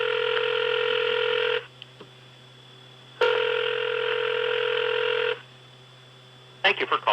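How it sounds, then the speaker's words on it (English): Telephone dialing on a call to an Enron inside number: two long steady tone bursts, loud and close, followed by a quick run of short touch-tone beeps at the end. "Let's dial that up, Louie."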